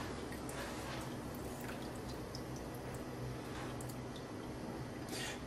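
Hot ghee poured into a cloth bowl for straining gives a steady, close, low-level trickle and patter of liquid, with small drips and wet squishes throughout.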